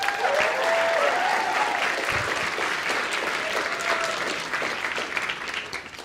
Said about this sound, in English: let's give them a brief round of applause